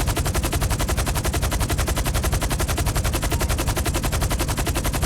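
Bullets pound a vehicle in GTA Online as a loud, relentless stream of rapid automatic gunfire, steady and unbroken from start to finish.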